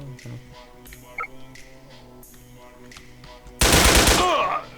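Automatic gunfire in the online shooter Wolfteam, an AER-15 X-MAX rifle, rattles out as a loud burst near the end, after quieter game sounds and background music.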